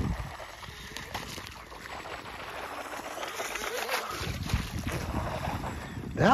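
Small model boat running across rough pond water, a steady distant motor whine buried in wind buffeting and water slap, fairly faint throughout with a louder gust near the end.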